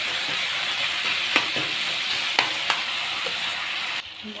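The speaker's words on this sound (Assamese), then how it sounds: "এতিয়া আকৌ নহৰুখিনি মানে মাংসখিনি ফ্ৰাই কৰিম।" Chicken meat fries in a pan with a steady, loud sizzle throughout, broken by a few sharp stirring clicks and pops; the sizzle drops off abruptly near the end.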